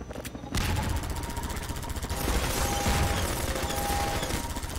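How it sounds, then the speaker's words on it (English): Sustained automatic gunfire from blind firing in the video game Half-Life 2, a dense, loud rattling burst that starts abruptly and runs without pause to the end. "Blind firing!"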